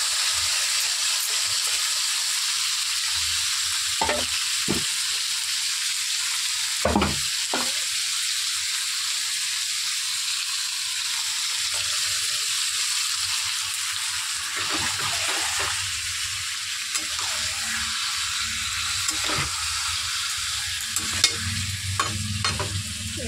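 Meat frying in a pan in a home kitchen while it is stirred. A steady bright sizzle runs throughout, with occasional scrapes and knocks from the stirring.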